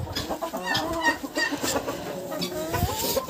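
A young rooster in a winter village poultry yard in Ukraine clucks in repeated short bursts, close and fairly loud, with other fowl faintly in the background.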